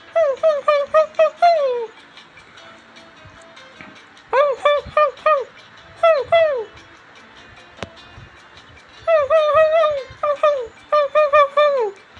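A man imitates a dog barking with his voice, rapid strained yelps delivered in several loud bursts of four to eight, separated by short pauses, with nothing else audible between them.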